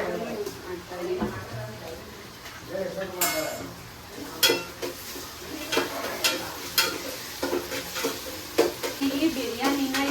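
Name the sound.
ginger-garlic paste sizzling in hot oil tempering for chicken biryani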